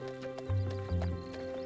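Fine-blooded horses on a ride through Central Park clip-clop in a quick, even rhythm close by. A whinny is also heard, and a sustained musical tone runs underneath.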